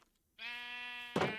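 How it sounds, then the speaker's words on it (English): Minecraft sheep bleat in a wool farm in the game, a single sustained, wavering bleat close up and fairly loud after a moment of silence, followed by a brief burst of noise. "and then take the baby sheep,"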